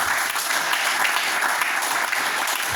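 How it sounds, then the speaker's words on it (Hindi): Loud, dense audience applause fills a large hall at an industry gathering in India, a continuous even roar of many hands clapping with no break. "इसके लिए जोरदार तालियां चाहिए।"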